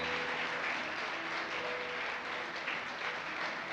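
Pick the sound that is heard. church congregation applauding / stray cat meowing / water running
church congregation applauding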